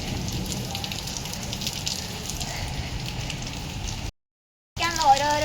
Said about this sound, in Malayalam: മഴ തന്നെയാണ് ഗൈസ്.